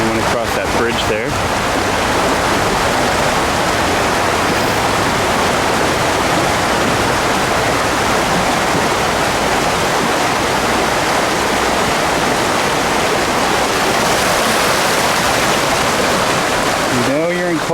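Water rushes in a loud, continuous broadband wash, like a creek flowing close by, with faint voices in the background.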